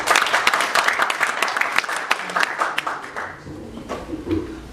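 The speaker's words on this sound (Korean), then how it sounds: "박수를 한번 맞아주십시오" A steady burst of audience applause at a mission forum, dense clapping that tapers off after a few seconds into a few lingering claps.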